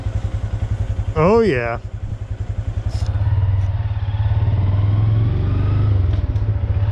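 A Honda Grom mini bike rides and takes a sharp turn, its small engine putting out a loud, steady throbbing putter up close that rises briefly as the throttle is blipped, with a short spoken exclamation.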